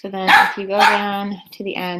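A dog barks in a few loud, close bursts while a person keeps talking over it.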